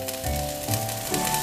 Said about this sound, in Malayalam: അപ്പോഴേക്കും നമുക്ക് അരി ഒന്ന് വറുത്തെടുക്കാം.